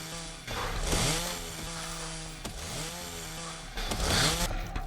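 A chainsaw in the zombie shooter Into the Dead 2 revs loudly and continuously, its droning engine rising and falling in pitch with repeated throttle swells, heard alone without talk.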